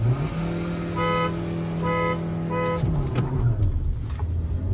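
Two petrol manual SUVs, a Hyundai Creta and a Mahindra Scorpio N with AC on, sit at a drag-race start: steady engine hum with a horn-like tonal blare in three bursts, then revving surge near the end.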